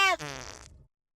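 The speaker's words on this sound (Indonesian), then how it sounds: "Kentut. Fresh." A single short fart, close and fairly quiet, with a buzzy start that trails off into silence within a second.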